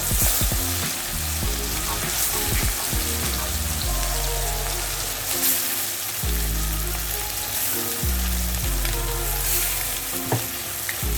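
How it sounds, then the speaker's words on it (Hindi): Chicken pieces, about a kilo, fry and get stirred in a pan, a steady loud sizzle with repeated scraping stir strokes throughout, no voices. "ये एक चिकन का पीसेस डाल देंगे और अच्छे से पकाना है, भूनना है चिकन को।"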